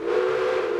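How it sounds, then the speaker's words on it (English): Steam locomotive whistle in the Railway Empire video game, a single steady sustained blast that is loud and close with no voices over it. "Ooh, that whistle's lovely, isn't it?"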